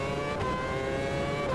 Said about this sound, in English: This car is by far my favorite from the ones I've tried in Automobilista 2. This is just awesome. Sounds amazing.